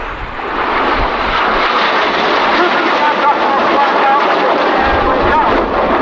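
Red Arrows RAF aerobatic jets performing barrel rolls at the Teesside Air Show, giving a loud, steady roar that holds for the whole stretch, with an announcer talking over it through a public address system.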